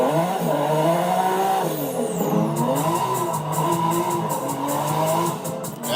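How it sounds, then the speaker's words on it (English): A turbocharged JDM drift car fitted with a GK Tech drift kit revs loudly and steadily up close, its engine tone rising and falling in layered harmonics with a diesel-like rasp throughout. "Turbo sounds like a diesel"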